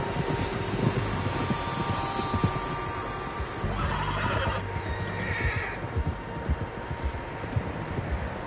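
A horse in Red Dead Redemption 2 gives a whinny over steady hoof clip-clop and windy outdoor ambience, close and clear with no talk.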